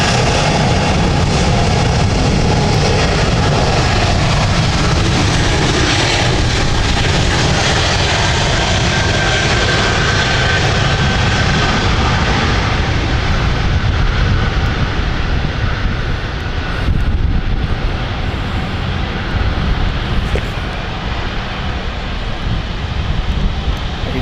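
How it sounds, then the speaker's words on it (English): A heavily loaded Helvetic jet airliner flying for Swiss to Zurich takes off at London City, a loud, sustained broadband engine roar that holds steady, then eases slightly toward the end. "I think we're going for an immediate takeoff here, and we are indeed. So this is the Zurich flight with Helvetic of Swiss."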